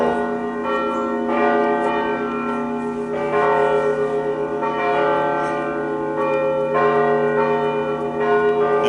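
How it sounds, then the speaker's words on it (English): Large bells ring loudly and repeatedly, their strikes overlapping into a rich, sustained resonant peal with lingering hum. "we're trying to let the bells ring"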